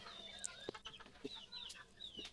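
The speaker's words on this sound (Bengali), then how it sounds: "দেখেন মুরগিগুলো কি করতেছে বাড়ির মধ্যে, মনে হচ্ছে একজন আরেকজনের সাথে যুদ্ধ করতেছে" Village chickens of a local breed in a home yard, giving a scatter of short clucks and squawks as they scuffle, fairly faint and close together, with no talk.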